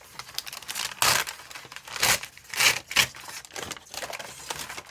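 Brown packing paper crinkles and rustles in several loud bursts close by, with short crumpling sounds between them.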